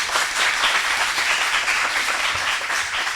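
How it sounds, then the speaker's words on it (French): Spectators at a school quiz competition applaud a team with loud, sustained clapping from many hands. The crowd noise stays full and continuous to the end. "Je vous demande d'applaudir cette équipe,"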